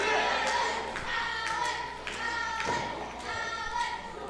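Wrestling crowd in an indoor independent-wrestling venue clapping together to rally a struggling wrestler, a steady run of rhythmic claps with sharper accents, heard at a distance without clear voices.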